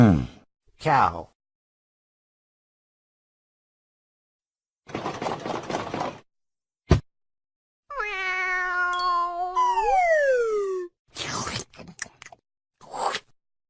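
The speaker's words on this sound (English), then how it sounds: "Cat." A cat lets out a clear, mid-loud meow that slides downward at the end, set among a few short spoken words and clicks before and after.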